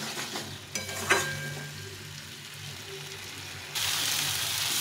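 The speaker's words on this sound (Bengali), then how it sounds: "এখন এটার সঙ্গে ভালো করে কষিয়ে নেব" Lightly pre-fried potato, eggplant and beans stir-fried in oil, giving a close, steady crackling fry with a few spatula knocks early on, and the sizzle swelling louder near the end.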